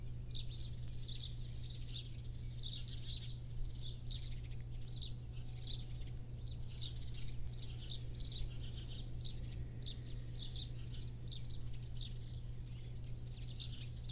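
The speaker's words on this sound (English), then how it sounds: "Birds are our music." Birds chirp in repeated quick bursts at sunrise in Hawaii, fairly faint and steady over a constant low hum, with no talking.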